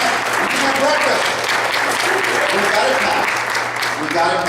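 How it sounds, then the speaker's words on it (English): Conference audience applauding at a pastor protection event, a steady full-room wash of clapping with cheering voices mixed in, loud and sustained throughout. "Round of applause for the Lord."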